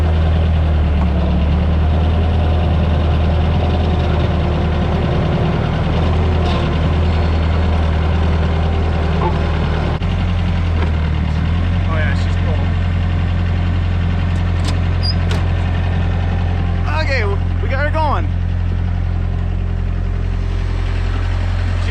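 A cold vehicle engine, only just started in winter, idles with a steady low rumble that runs throughout, loud and close, with faint higher chirps over it near the end.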